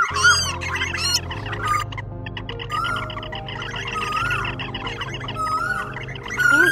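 Recorded calls of the Asian koel mixed with other bird calls for bird trapping: repeated loud whistled and chirping phrases, rising swoops and rapid trills, over a low steady hum from the playback.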